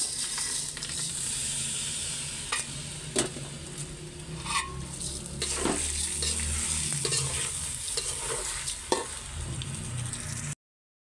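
Washed rice and whole spices fry in a pot for pulao with a steady, close sizzle. Repeated stirring scrapes and a few sharp clinks of the spoon against the pot run through it, with no talking.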